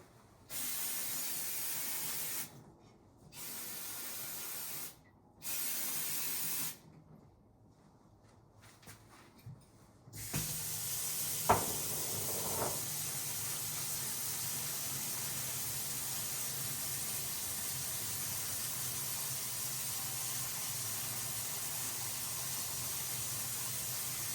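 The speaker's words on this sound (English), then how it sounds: "Carbon choke cleaner on there." Carb choke cleaner sprayed onto a 2004 Suzuki LTZ 400 quad engine during water pump work: three or four loud, hissing aerosol bursts separated by short pauses, then a steady hiss with a couple of faint clicks.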